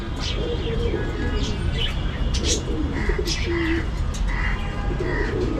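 Pigeons being let out of a coop coo in low, repeated rolls amid sharp chirps from other birds, over a steady background hum, with a person speaking nearby.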